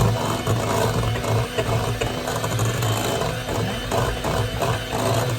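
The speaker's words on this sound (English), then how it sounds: "We're just gonna whisk this." Cream cheese, sugar and sour cream being whisked together in a bowl for a strawberry cheesecake, a steady, close rhythmic scraping and rattling that runs without pause, with no talking.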